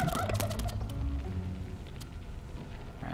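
Chickens in the dungeon-building strategy game Dungeons 3, a few quick clucks and gobbling calls up front over soft game ambience, fading into quieter background sound.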